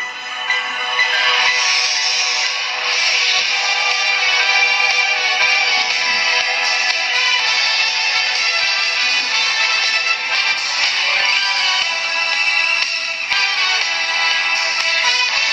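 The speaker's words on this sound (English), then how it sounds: "now I gotta say that's an epic ringtone" The old HBO town open theme plays as a ringtone, a loud, sustained bright orchestral fanfare with bell-like tones running steadily for about fifteen seconds, no speech.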